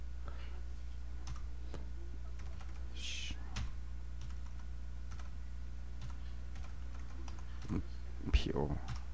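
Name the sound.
computer keyboard typing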